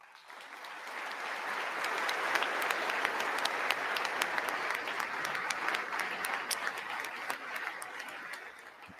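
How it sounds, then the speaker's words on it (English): Sustained, dense applause from members of Congress after Zelensky's speech, loud and steady throughout with scattered sharper claps and no talk over it. "there was just the applause from those in Congress was constant."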